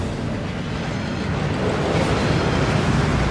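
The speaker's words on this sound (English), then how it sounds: "That waterfall washes away all enchantments." Steady rushing water from a waterfall inside the vaults beneath Gringotts, a continuous broadband roar that swells slightly louder toward the end, with no voices over it.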